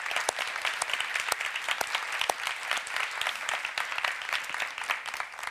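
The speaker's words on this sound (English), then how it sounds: "So let's give an applause to these people." A conference audience at an annual scientific meeting applauds the organizing committee, dense, even clapping from many hands that fills the room steadily from start to finish, with no talking over it.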